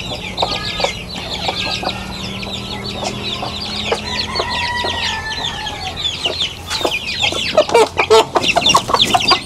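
Chickens and chicks on a farm make a loud, continuous chorus close by: high peeping from the chicks mixed with hen clucks and an occasional rooster crow, with a busier burst near the end.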